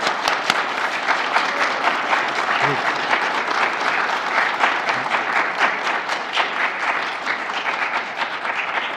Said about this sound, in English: Let's give those young parliamentarians a round of applause.